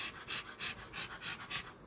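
A beekeeper's smoker puffs smoke onto bees at an open hive in steady, rhythmic soft bursts of air, about six close puffs in quick succession.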